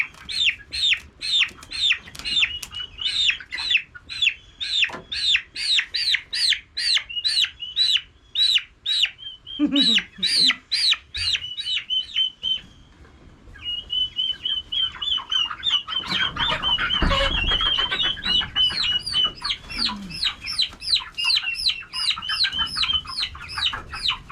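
Young roosters have their wings clipped, squawking in rapid repeated bursts, close and loud, with a short pause midway before the frantic calls pick up again.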